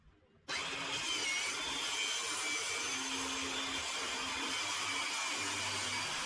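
A power saw plunge-cuts a square hole in an ACM aluminium composite panel for a pop-up camper build, a loud steady whine starting abruptly after a brief pause and running without break, close by and alone.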